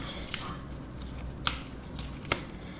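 Tarot cards shuffled and drawn by hand for a love reading, a soft continuous riffle punctuated by three sharp snapping card flicks, close and clear with no talking.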